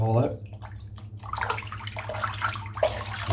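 A Simpson Chubby 2 shaving brush is rinsed of soap in water, giving a splashing, running-water wash under a steady low hum.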